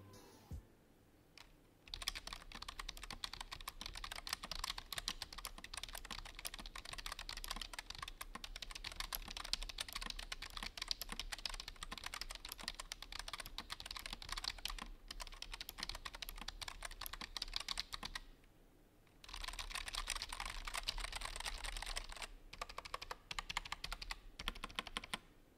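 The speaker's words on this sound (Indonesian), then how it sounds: "Kita dengerin dulu typing testnya." Steady typing on a Rexus Mosaic KB01 wireless membrane keyboard, a dense run of soft, close keystrokes lasting over twenty seconds with one brief pause near the end.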